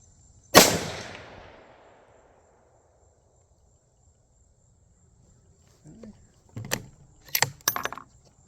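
A single sharp, loud handgun shot rings out and echoes away. After a pause come brief voices and some handling noises.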